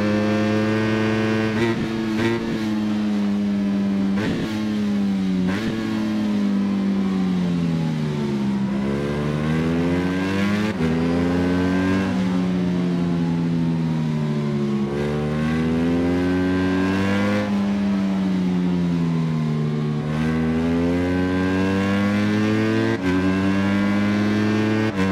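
Motorcycle engine in the Ride 5 racing video game, revving steadily with pitch rising and falling through repeated gear changes and throttle sweeps, a loud continuous drone throughout with no talk.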